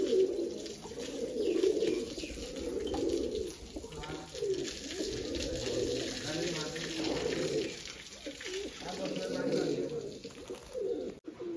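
Pigeons coo close by in a soft, continuous low murmur, with people talking over the birds for much of the stretch.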